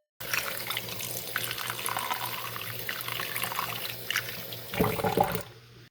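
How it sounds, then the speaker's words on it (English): Plastic equalizer knobs from a 1985 Casio AS-20 keyboard amplifier being washed in warm soapy water, with steady running tap water and sloshing throughout and a louder splashing burst near the end. "I'll clean them with some warm soapy water"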